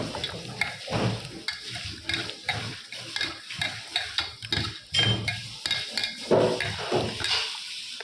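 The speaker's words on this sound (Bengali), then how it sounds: "বেলের শরবতটা গোলা হয়ে গেছে" A spoon stirs bael fruit sherbet mixed with salt, sugar and tamarind in a vessel, a continuous close, wet swirling and sloshing with rhythmic scrapes and taps against the container, no talking.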